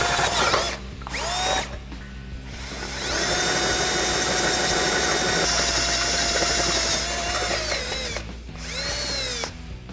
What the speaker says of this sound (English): I'm gonna drill it from here